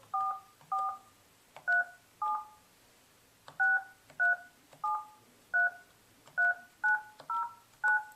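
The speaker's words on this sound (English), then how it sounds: "Please enter the activation code followed by the pound key." Series of crisp two-tone keypad beeps on a Polycom IP 6000 conference phone as an activation code is entered, about fourteen short tones in irregular rhythm, close and clear.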